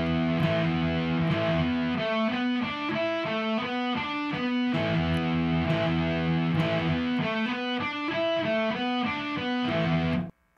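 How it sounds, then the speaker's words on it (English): Distorted electric guitar plays the riff slowly, steady repeating chugging pattern with palm-muted rhythm, loud and alone before cutting off abruptly at the end. "The whole riff, slowly,"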